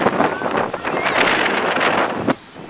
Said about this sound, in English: very windy out though